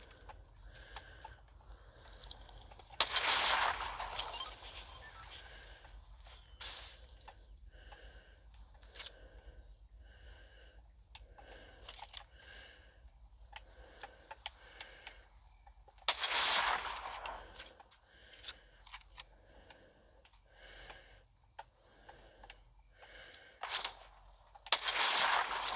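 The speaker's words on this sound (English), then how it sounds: "And they're shooting over there." Sporadic gunfire in a Fortnite match: scattered single shots and short bursts spread across the stretch, some sharp and close, others fainter, with quiet gaps of game ambience between them and no talk.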